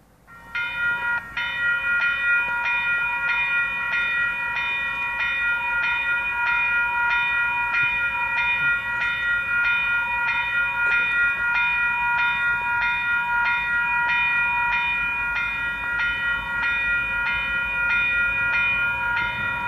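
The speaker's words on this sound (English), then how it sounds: "We got a northbound train coming on the Sacramento Subdivision." Union Pacific 8690 northbound freight train passes on the Sacramento Subdivision in Sacramento, with a loud, steady rolling roar, a sustained ringing tone and rhythmic clicks of wheels over rail joints.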